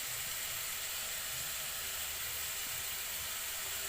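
Chopped ginger goes into a hot pan of olive oil and chicken, giving a steady broad hiss of frying that holds evenly throughout with no talking.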